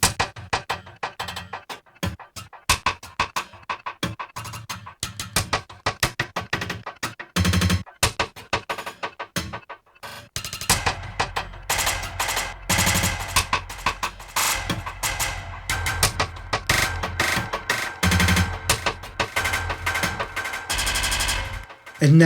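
A choppy, gated rhythmic loop from the second Loop Designer instance in the Uncharted 88 library plays alone, stuttering in quick bursts with brief gaps before settling into a denser, steady pulse.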